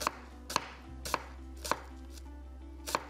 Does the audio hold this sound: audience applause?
no